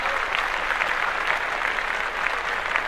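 Applause from a podcast audience, a steady dense wash of clapping that holds at an even level throughout, fairly close, with no voices over it.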